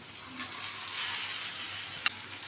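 Cut bitter gourd pieces frying in a pan, a soft hissing sizzle that swells and settles, with one brief utensil tap near the end.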